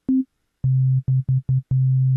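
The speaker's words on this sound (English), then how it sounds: "So we get a simple sine wave." A pure, steady sine tone sounds in short bursts, with one higher blip followed by several lower sustained and clipped notes in an uneven rhythm.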